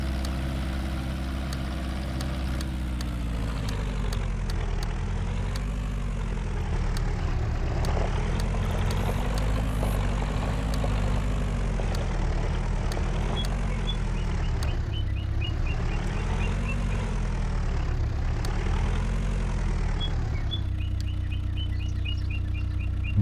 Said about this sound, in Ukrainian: Вибачте, бо в тракторі ой як дуже голосно